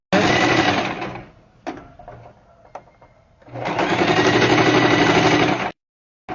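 Sewing machine stitching a 1 cm seam on a diaper holder with a wet-wipe pocket, a steady loud whirring run, a pause with clicks for the backstitch, then another sustained run.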